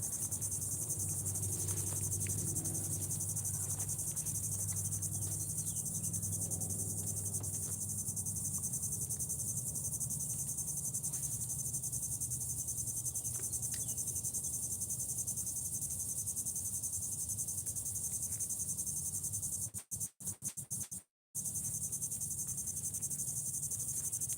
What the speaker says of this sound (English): the cicadas are absolutely everywhere